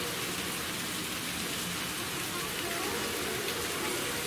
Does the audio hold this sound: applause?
no